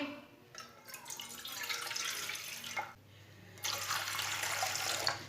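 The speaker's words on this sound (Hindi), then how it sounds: "2 कप पानी डाल लेंगे।" Water poured into a pan for jaggery tea in a home kitchen, two bursts of splashing pouring separated by a short pause, close and moderately loud with no talking.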